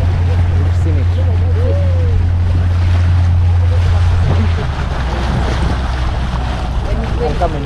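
Motorboat cruising on a river channel between two lakes in an African national park, with a steady low engine drone, wind buffeting and water wash, and the hum dropping partway through.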